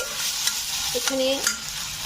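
Ginger paste and slit green chillies fry in a pan for butter paneer, a steady close sizzle with a spoon stirring and scraping against the metal.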